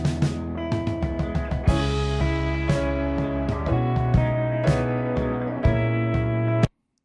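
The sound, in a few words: piano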